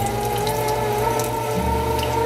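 An electric meat grinder for venison jerky runs close by, giving a loud, steady mechanical whir with no pause or change across the short stretch.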